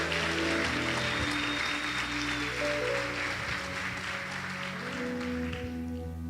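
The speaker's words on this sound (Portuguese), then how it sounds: "Você pode aplaudi-lo?" A church congregation applauds during worship, a sustained moderate clatter of hands layered over held organ or keyboard chords that continue underneath throughout.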